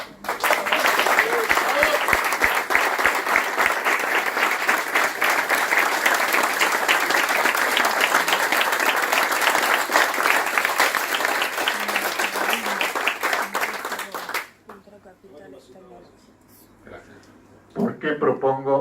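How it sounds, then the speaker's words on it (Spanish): An audience at a talk on Argentina and basic income breaks into sustained, loud applause that rolls on for about fourteen seconds, then cuts off before a brief swell of clapping returns near the end. "Me emociona el aplauso de ustedes porque es histórico"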